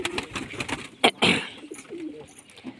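Pigeons cooing close by, several soft throaty coos in a row with a couple of louder bursts of wing-flutter or movement partway through, all under a light background hum.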